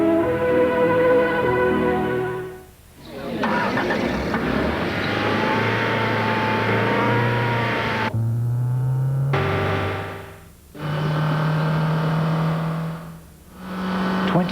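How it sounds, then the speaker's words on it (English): A Honda Civic car engine revs repeatedly, its pitch rising and falling in loud bursts separated by short pauses. "That's how we develop and test the engine of the Honda Civic."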